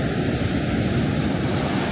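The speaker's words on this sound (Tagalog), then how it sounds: "Isang alon." Ocean waves break on a beach, giving a loud, steady roar of surf with no gaps, close to the microphone and mixed with wind noise.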